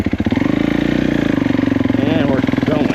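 A 2021 Kawasaki KX450 dirt bike engine chugs with a steady pulsing throb as it pulls away in second gear, loud and close, with a voice speaking over it.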